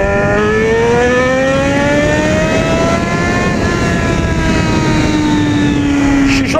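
Yamaha XJ6 motorcycle engine roaring loudly and close, holding a steady high rev with harmonics rising slightly then easing, sustained throughout without talk.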